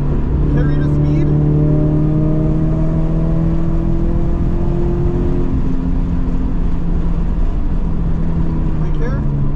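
A car at speed on a race track, its engine droning loud and close from inside the cabin, pitch sliding down and up through shifts and corners, with someone talking over the noise.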